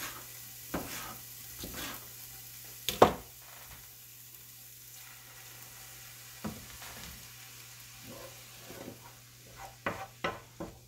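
Onions cooking in a pan for a Serbian string bean dish give a faint, low sizzle, broken by scattered scraping stirs and utensil taps that bunch together toward the end.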